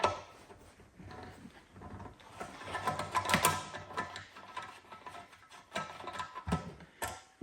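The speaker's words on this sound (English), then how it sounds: "This is where you're going to want to use your 8mm nut driver. So we're going to go ahead and remove these 2 bolts" An 8mm nut driver turns out two bolts on a Predator generator, producing close, ratcheting clicks and metallic scraping in uneven bursts, with small handling knocks in between.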